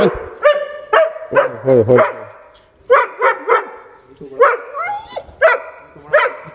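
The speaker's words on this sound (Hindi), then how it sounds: "इसने तो उन पे भौंकना शुरू कर दिया।" A dog barks repeatedly and loudly at close range from behind a car as visitors arrive, sharp bursts in quick clusters mixed with whines, while someone speaks over it to calm the dog.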